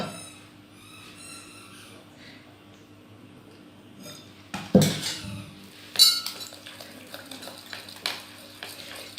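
Thick pakora batter paste for potato fritters mixed in a bowl, a few scattered clinks and scrapes of a spoon against the bowl, sparse and close, with quiet stretches between strokes.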